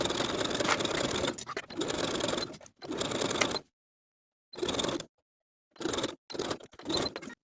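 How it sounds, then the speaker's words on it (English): A sewing machine runs close and clear, stitching binding onto the armhole of a sleeveless top in several bursts of fast, even whirring stitches broken by short pauses and two brief silent gaps. "Then I'll sew the binding to the armhole all the way around with a 3/8 inch seam allowance"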